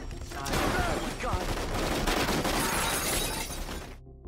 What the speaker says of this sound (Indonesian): Setibanya di lokasi, mereka langsung disambut tembakan oleh penghuni rumah.